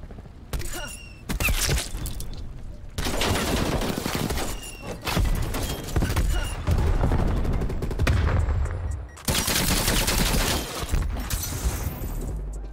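Explosive-bullet gunfire in Call of Duty Cold War: loud, dense bursts of rapid automatic fire with sharp cracks, broken by brief pauses, filling the whole stretch with no talk.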